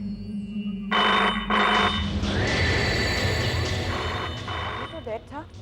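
A telephone rings in a Hindi horror TV episode, an old phone that was dead suddenly coming to life; loud electronic ring bursts repeat over a low hum, with a voice speaking near the end.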